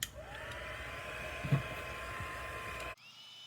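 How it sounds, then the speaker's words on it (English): A heat tool blows over an art journal page, a close, steady whirring hum of fan and air that runs evenly for about three seconds, then switches off abruptly. "Do it with a heat tool."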